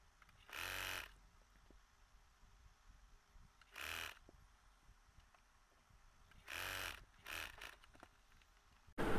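A sewing machine stitches fabric in several separate bursts: two short runs, then a longer one and a quick final spurt. Each burst has a fast, even mechanical whir, and soft handling sounds and quiet pauses fall between them.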